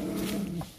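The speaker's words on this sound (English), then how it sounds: "but apart from Nacho, he barked at it." A dog gives a short bark or yelp outdoors in a forest at night, a single close, fairly loud vocal burst with a brief whimpering tail, no talk over it.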